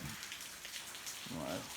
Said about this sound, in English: you can see it's pouring down rain